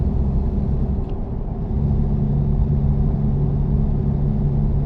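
A virtual truck in American Truck Simulator drones with a steady low engine rumble, loud and constant with a slight pitch rise partway through, no talking.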